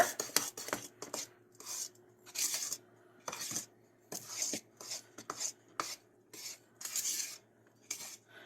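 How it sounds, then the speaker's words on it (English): A spoon stirs zucchini bread batter in a bowl after the dry ingredients go into the wet, making repeated close scraping and clinking strokes in an even rhythm with short quiet gaps between them. "we just put in our dry ingredients into our wet. Give it a good stir."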